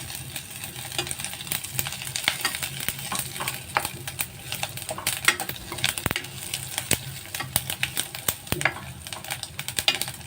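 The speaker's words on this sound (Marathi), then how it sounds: "त्यामध्ये चण्याची डाळ टाकूया आणि तीळ ते भाजून घ्यायचे" Chana dal and sesame seeds dry roasting in a pan, a busy rattle of seeds with frequent sharp spatula scrapes and taps against the metal, close and steady, with no talking.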